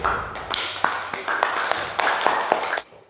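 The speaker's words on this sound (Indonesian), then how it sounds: "kita kasih tepuk tangan ke kelompok Alif" A classroom group claps for a team, with sharp, fairly close hand claps in a loose rhythm lasting under three seconds before stopping abruptly, as a voice speaks over it.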